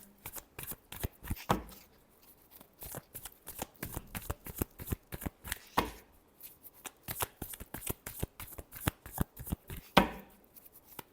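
Tarot cards are shuffled by hand over and over, close and crisp, in quick irregular bursts of riffling and slapping with brief pauses between them.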